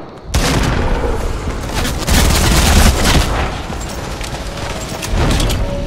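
Dense video-game gunfire bursts out suddenly after a short pause and keeps going as heavy, rapid shots and booms, loud and close, swelling in a few stronger volleys.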